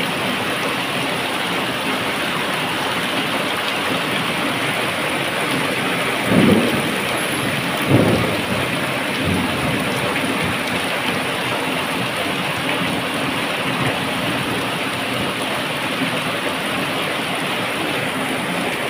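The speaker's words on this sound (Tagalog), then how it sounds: "Grabe yung lakas ng ulan," Heavy rain pours steadily in a dense, hissing wash throughout, with two dull thunder rumbles rolling in around the middle of the downpour.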